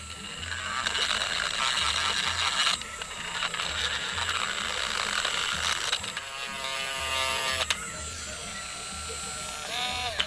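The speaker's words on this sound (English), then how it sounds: "Dremel, Dremel." A Dremel rotary tool grinds on a tooth, giving a buzzing, rattling whine that continues with uneven chatter and shifts in pitch, close up and fairly quiet.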